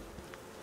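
A faint, steady drone of bees buzzing in the video game Icarus, heard alone at low level for a brief moment.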